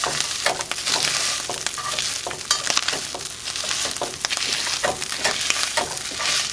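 Pre-cooked potatoes mashed in a frying pan of hot oil, giving a continuous loud sizzle with repeated soft thumps and scraping strokes at a steady, busy pace.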